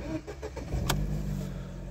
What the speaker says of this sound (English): if we start the car